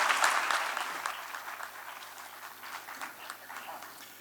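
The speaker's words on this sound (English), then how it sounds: "A big round of applause to him." An audience applauds at the inauguration of a Nobel Prize Series event in India, a dense, sustained clapping from a large crowd that gradually thins and softens.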